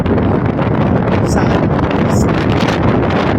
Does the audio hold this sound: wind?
yes